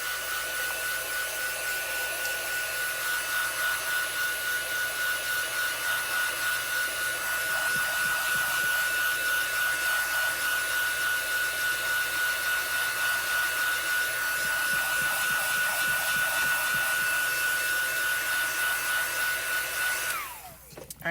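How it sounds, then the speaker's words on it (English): A heat tool runs steadily at close range, blowing hot air to set ink on a card, with a loud, constant whir that holds for about twenty seconds and then cuts off. "And I'm going to heat set that just a little bit."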